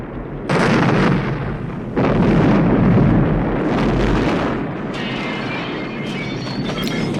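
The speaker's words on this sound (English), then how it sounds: "other than the movie just wanted a cool explosion" A big explosion from the 1982 film First Blood, a loud, sustained roaring blast with rumbling bursts that swell and continue, ending in crackling debris; no one speaks over it.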